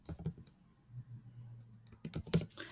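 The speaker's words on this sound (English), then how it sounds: "It's not letting me type up there." Typing on a computer keyboard: a short cluster of soft taps, a quiet pause with a low hum, then a sharper burst of several clicks close by, with no talking.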